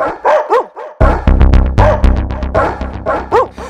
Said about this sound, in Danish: Det er en stor, bleg hund, der står og råber hver nat i porten til min lade.